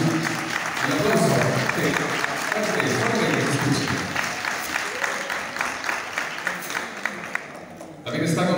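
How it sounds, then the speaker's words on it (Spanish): Applause from the audience at a town beauty pageant evening fills the space, loud at first and then thinning out, with a voice over a loudspeaker near the end. "Un aplauso."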